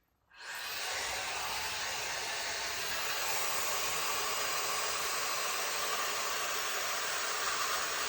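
A Shark Flex hair dryer switches on and blows hair in a steady, close, loud whooshing roar that holds unbroken to the end with no talking.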